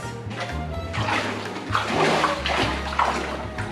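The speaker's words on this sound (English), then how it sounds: "I always wanted to have a rain shower in my own toilet" Steady running water pours and splashes close by from a rain shower head in a hotel bathroom, spraying into a tiled space, continuous and fairly loud.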